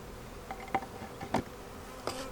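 Honey bees at a flow hive buzzing faintly, with a few brief fly-bys passing close over quiet background.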